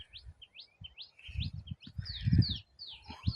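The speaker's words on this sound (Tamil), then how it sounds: "சிட்டுக்குருவி பறக்குது பாருங்கள்." Small sparrows chirp and tweet repeatedly in quick high calls, fairly close, over low rustling and handling noise; no wingbeats stand out.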